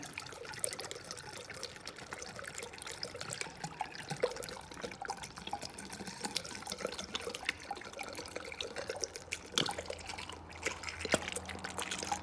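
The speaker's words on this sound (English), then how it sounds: "I'm gonna start with adding the water wetter." Water Wetter additive being poured into a car's cooling system makes a steady liquid trickle and pour. It runs continuously and fairly faint, with small splashy bursts near the end.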